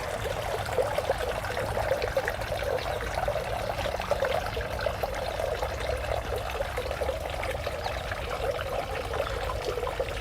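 Water pours steadily into a dog's water bowl outdoors in a cut flower garden, a continuous close splashing trickle lasting the whole stretch without pause.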